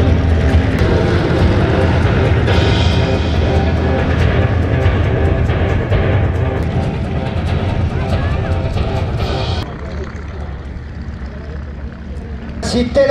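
Propeller aircraft flying in a Tora Tora Tora airshow demonstration with eleven planes at Le Temps des Hélices 2023, a loud steady engine drone that fades somewhat toward the end, with a commentator talking over it.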